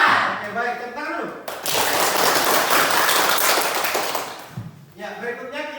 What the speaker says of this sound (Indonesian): Oke, baik, tepuk tangan dulu.